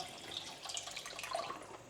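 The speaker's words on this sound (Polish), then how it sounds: "Jeszcze trochę zalejemy wodą i to mogę stawiać teraz na ogień." Water pours faintly into a pot on a stove in a home kitchen, a soft continuous trickle and splash, quiet and close with no one speaking.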